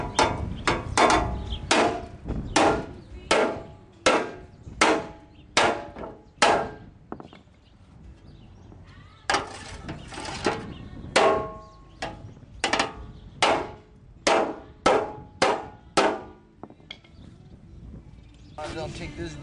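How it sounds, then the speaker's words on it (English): Sharp metallic blows of a small hammer flattening metal on a fuel tank and skid plate, striking in a steady rhythm, over a dozen hits in two runs separated by a short pause. "I use my little hammer there and put it to good use."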